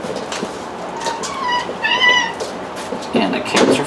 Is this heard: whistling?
no